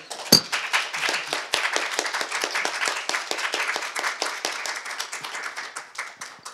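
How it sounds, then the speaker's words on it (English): A small audience claps after a Q&A session, a crisp patter of individual hand claps that starts with a sharp first clap, stays fairly even, then thins out toward the end. "Let's give them a big round of applause."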